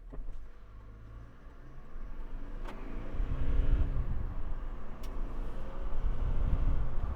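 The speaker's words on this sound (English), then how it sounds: "This car can actually sprint." A Toyota Land Cruiser J150 accelerating hard from a standstill, its engine note building in a steady low rumble that grows louder and stays strong, heard from inside the cabin with no voices.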